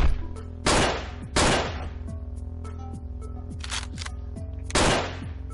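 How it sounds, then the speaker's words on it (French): Gunfire in the top-down shooter Hotline Miami: four loud, sharp shots spaced irregularly over a steady electronic music backdrop, each bursting out and decaying quickly, with no talking. "Je t'ai tiré dessus."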